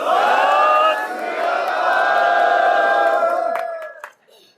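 A large crowd roars a loud, sustained chanted slogan in unison, voices swelling together for several seconds before cutting off sharply.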